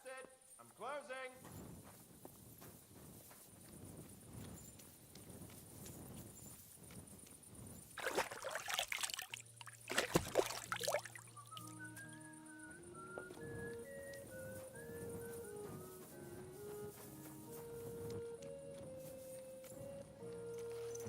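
Rhythmic hoof clip-clops from a horse in Kingdom Come: Deliverance II under steady talking, with music and other game sounds layered in.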